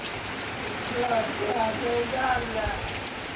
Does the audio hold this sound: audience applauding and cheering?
no